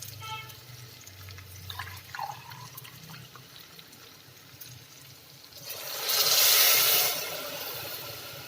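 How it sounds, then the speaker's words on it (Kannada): Four cups of water pour into a pot of rice for ghee rice, a short splashing gush arriving after several seconds of quieter kitchen sounds and soft clinks. "ಈಗ 4 ಲೋಟ ನೀರು ಹಾಕ್ಕೊತಿದ್ದೀನಿ."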